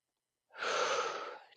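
A single long breath out during a slow bodyweight lowering exercise, a steady airy exhale that swells and tapers over about a second, close and fairly soft, with no talking.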